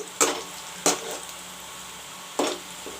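Onions frying in a pan while cooking a drumstick curry give a soft, steady sizzle, broken by a few sharp clinks of a utensil against the pan, with no talking.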